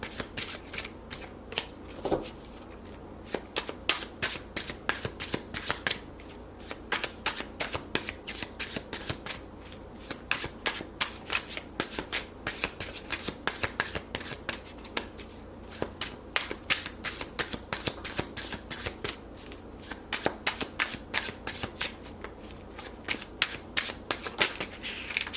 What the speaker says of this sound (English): it's going to take me a minute to shuffle because I want to make sure that they're good and mixed up